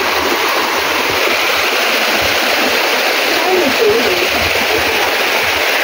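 Spring-fed stream running strongly, a loud, continuous rush of flowing water filling the whole clip, with people talking faintly beneath it.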